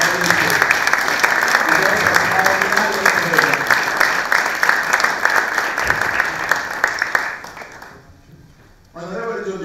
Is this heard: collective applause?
yes